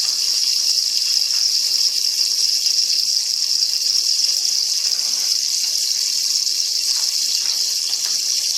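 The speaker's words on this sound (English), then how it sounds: "I'm going to add 2 cups of my almond milk" Almond milk pours in a steady, continuous liquid stream into a dish for baked rice pudding, an even close hiss that lasts throughout with no talking.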